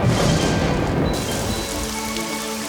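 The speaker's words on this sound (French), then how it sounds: "pouvait faire pleuvoir absolument n'importe quand" Rain pattering steadily on a surface in a French fairy-tale scene, a continuous close, fairly loud patter with a low rumble near the start.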